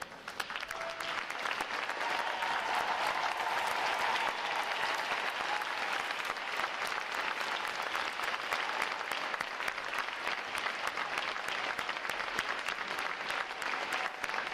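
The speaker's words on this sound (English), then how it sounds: "Could I get all our veterans to please stand so we give you a round of applause?" Sustained applause from a large audience at a U.S. Navy boot camp graduation as veterans stand, steady and dense clapping filling the hall for the whole stretch without pause.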